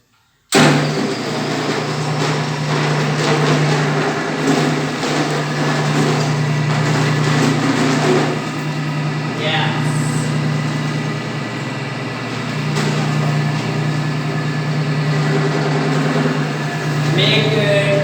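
Floor polishing machine working across Volakas white marble, a loud steady motor hum with a grinding, whirring texture that holds for most of the stretch. Some faint scrapes and knocks are heard over it.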